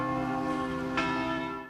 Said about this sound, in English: Bells tolled throughout the city of Dallas at 12:30 p.m., marking the moment when President Kennedy was shot.